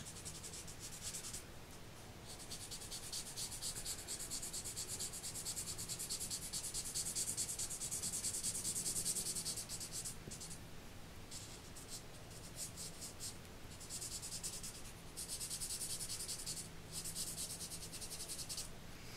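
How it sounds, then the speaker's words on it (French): Steady scratchy rubbing of a pencil or marker colouring paper brown by hand for a vintage gear-themed men's card, continuous close strokes with brief pauses, no talk. "je vais colorier un peu, mettre tout en marron"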